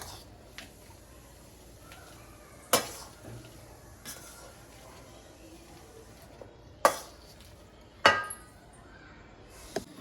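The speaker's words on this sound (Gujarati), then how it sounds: "આ રીતે એને મેસરથી એકદમ ઝીણા કરી લેવાના" A masher crushes boiled potatoes in a bowl in a kitchen, giving a few sharp, sparse knocks and scrapes spaced several seconds apart over a quiet background.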